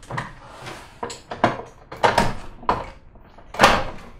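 An aircraft cockpit security door being operated and locked, a sequence of sharp mechanical clunks and knocks at irregular intervals, close and moderately loud.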